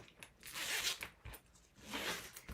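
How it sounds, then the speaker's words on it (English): Zipper pulls slid along zipper tape on a sewn sling bag, two soft rasping zips close by, quiet and without talk. "You can put your zipper pulls into the center now."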